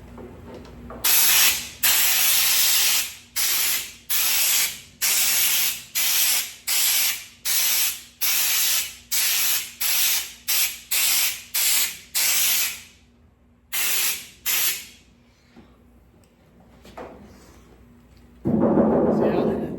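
Repeated short bursts of aerosol spray paint on a 1970 Monte Carlo, about a dozen hissing blasts in quick rhythm, then a pause and two more bursts, with a brief sound at the end.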